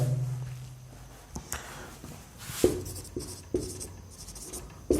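Chalk or marker writing on a classroom board, faint scratchy strokes with a few sharp taps as the writing instrument meets the surface, close and quiet, with no speech.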